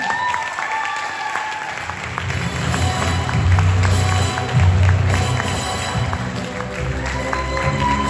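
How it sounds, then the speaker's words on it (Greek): An audience at a business talk on entrepreneurship applauds warmly as a manager is welcomed onto the stage. The clapping is dense and sustained, swelling midway, with a few faint voices mixed into the crowd. "θα ήθελα να μου βοηθήσετε με το θερμό σας χειροκρότημα να φέρω στη σκηνή μάνατζερ Παναγιώτη Βλάχο"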